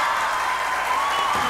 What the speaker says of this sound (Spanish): yo creo que merece un aplauso muy,